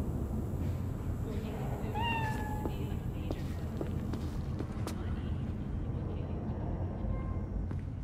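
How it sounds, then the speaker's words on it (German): Two cats in an elevator scene in the video game Cyberpunk 2077 give a couple of short, rising meows near the start, set over a constant dense background hum with scattered clicks and faint voices. "Wir sehen hier zwei Katzen."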